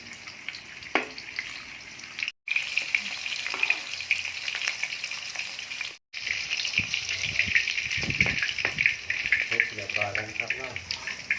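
Pork fries in oil in a pan, a bright continuous sizzling hiss close up, briefly cutting out twice, with stirring scrapes and a voice speaking underneath toward the end.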